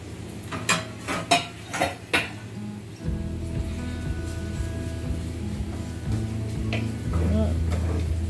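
Cinnamon, cloves and fennel seeds roast in a pan with a few sharp metallic clinks of a utensil against the pan at first, followed by a soft, steady sizzle and rustle.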